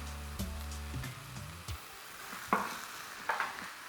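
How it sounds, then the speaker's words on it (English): Garlic and chili fry quietly in olive oil under a faint, low sizzle. A spoon scrapes and taps the pan in a few sharp stirring strokes. "we are just going to add 1 more tablespoon of olive oil with the garlic and the chilli"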